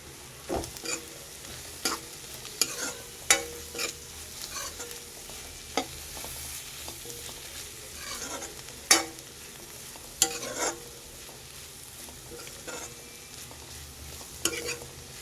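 Curry leaves and spices fry in a pan for a butter-pea usli, with a steady low sizzle broken by sharp scraping stirs and clicks of a spoon against the pan, close and fairly quiet, no voices.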